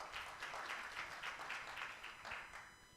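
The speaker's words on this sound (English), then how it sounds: "Another clap for him." Brief audience clapping at a women's national dialogue panel, a quick burst of many hands with a fluttering rhythm that tapers off within a few seconds.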